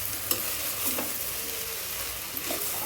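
Vegetables for green vegetable biryani frying in a pan, a soft continuous sizzle broken by a few sharp spoon clicks and stirring scrapes, close and fairly quiet, with no talking.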